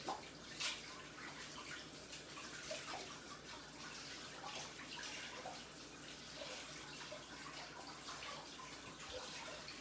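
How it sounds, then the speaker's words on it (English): Tap water runs into a sink during handwashing in a home kitchen, a steady splashing rush with faint drips and light clatter, continuous and moderately near with no speech. "Just washing my hands,"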